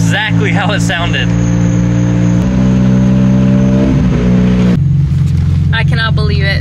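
A loud, raspy BMW S54 engine with no muffler, swapped into an E46 M3, revving and shifting, its droning pitch climbing and dropping, with people's excited voices shouting over it.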